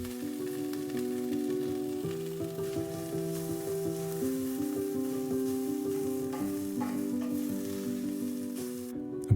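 Chickpeas and bamboo sauté in chili oil in a pan with a steady, fine crackling sizzle throughout, set over a sustained musical backdrop and ending with a sharp clatter.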